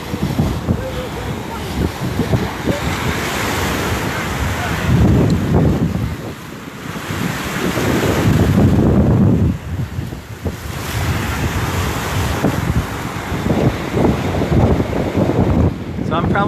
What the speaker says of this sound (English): The beach is amazing, Bella.